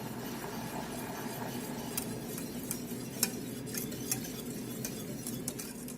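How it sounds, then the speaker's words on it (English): Whisk stirring Frank's Red Hot sauce into a simmering Buffalo wing sauce, soft continuous swishing with scattered light metallic clinks against the pan, fairly quiet. "add in the 1/2 cup of Frank's Red Hot sauce, and you're just gonna whisk that in and bring it back up to a simmer"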